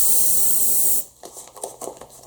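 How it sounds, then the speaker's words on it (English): Airbrush spraying Vallejo Model Air German grey paint onto MDF ruins, a steady close hiss lasting about a second before cutting off, followed by faint scattered clicks and handling noises. "I ensure that I spray from the inside so that I don't hit the outside walls"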